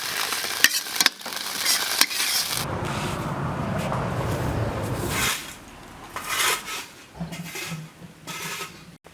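Pork liver stir-fried in a wok, with loud continuous sizzling and frying broken by bursts of scraping and stirring, then patchier clatter of the spatula toward the end.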